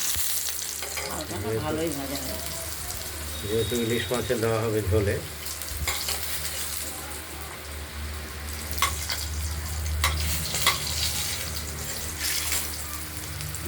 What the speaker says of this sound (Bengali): বেগুনগুলো ভাজা হয়ে গেছে এগুলো এক এক করে তুলে নেবো এগুলো হালকাই একটু ভাজতে হয়